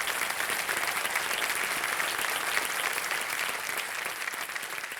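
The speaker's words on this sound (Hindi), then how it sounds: "इतने लोग ताली बजा रहे हैं" A studio audience on KBC Under 25 breaks into sustained applause, a dense wash of many hands clapping that stays loud and steady throughout, with a hint of voices underneath.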